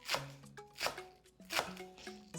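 Knife chopping green onions by hand on a board, a few sharp separate strikes about every three-quarters of a second over a steady background hum and tones, close and clear.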